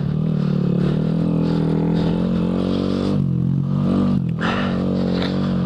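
Honda Grom motorcycle engine running off-road in the Pine Barrens, a loud steady near drone with shifting revs and a brief dip near the end, continuous throughout with no talk.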